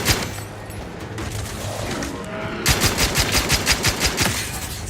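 A steady rapid-fire burst of automatic gunfire in The Outer Worlds 2 rattles out close and loud after a stretch of rumbling combat noise.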